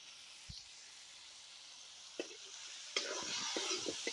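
Kuchia eel pieces frying in hot oil with salt and turmeric give a soft, steady sizzle, joined by a few sharp crackles and spatula scrapes toward the end, close but fairly quiet.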